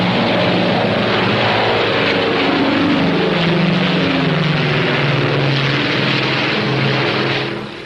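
P-61A Black Widow fighter aircraft taking off, a loud, steady propeller and engine roar that holds strong throughout before easing slightly at the very end.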